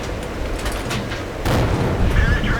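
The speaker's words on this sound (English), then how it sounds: "Fire a blind shot at the KV, just try and scare him if nothing else." In the World of Tanks video game, a low-tier tank gun fires a single blind shot, a sharp boom that rolls into a rumbling tail amid game noise.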